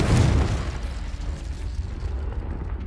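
A Confringo spell blast in Hogwarts Legacy bursts loudly at the start as a single deep boom, then rumbles and fades away over the next few seconds.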